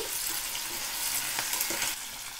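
Ginger, garlic, curry leaves and green chilies fry in oil for poha, making a close, continuous sizzle with light stirring scrapes throughout.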